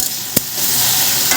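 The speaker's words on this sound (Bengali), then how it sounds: "এই যে ভেন্ডি ভাজা বসিয়ে দিয়েছি" Okra (bhindi) frying in a pan gives a steady, close hiss of sizzling, broken by a brief sharp clatter early on.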